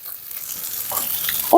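Seaweed stems and mushrooms are stir-fried in perilla oil, giving a soft, steady sizzle that ends with a sudden louder clatter.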